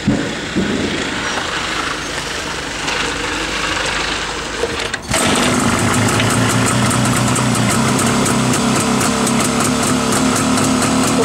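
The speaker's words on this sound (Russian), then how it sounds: "Вот так вот работает мотор на этом мотоцикле." A JAWA 350 motorcycle built as a chopper runs its engine nearby, a steady, loud, buzzing idle that starts abruptly midway after a stretch of broad rumbling noise.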